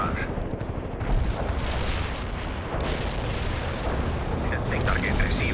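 A World in Conflict artillery barrage rumbles as a dense, continuous roll of heavy impacts and booms, with a voice speaking over the bombardment.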